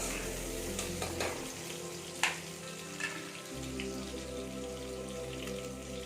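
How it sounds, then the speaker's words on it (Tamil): Onions and ingredients for Chettinad mutton kuzhambu sauté in a hot pan, giving a soft steady sizzle with light stirring scrapes and a few sharper clinks, fairly quiet and with no voice. "வதக்கிடலாம்"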